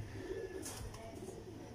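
Pigeons of a Mian Nazeer bloodline breeding pair cooing softly, low faint coos over a quiet background with a brief rustle partway through.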